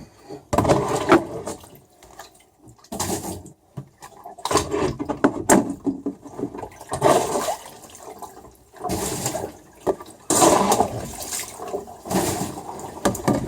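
Floodwater sponged out of a rain-filled boat with a leaking keel bolt seal, heard as repeated bursts of sloshing and wringing water into a bucket, close up with short pauses between.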